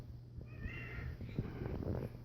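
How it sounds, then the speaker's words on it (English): A pet cat gives a short, fairly faint meow over a low background hum. "And there's my cat"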